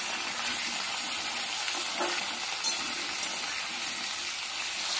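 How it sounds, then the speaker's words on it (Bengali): Potatoes fry in a pan over medium heat with a dense, even hiss of sizzling oil that holds steady throughout, a faint stirring scrape slipping in, close and without speech. "নাড়িয়ে দিয়ে ভালো করে আলুটা ভেজে নিতে হবে।"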